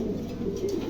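A pair of Mundian pigeons, a new-model breeding pair that has just laid its first eggs, coo in a steady low murmur that runs continuously and fairly close.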